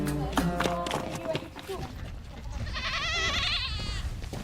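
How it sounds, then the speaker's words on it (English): A goat in a Berber camp in Morocco bleats in a wavering, quivering cry near the end, after a stretch of other sounds and clatter, with a voice speaking faintly. "taking a goat up here to kill it for a celebration for my arrival"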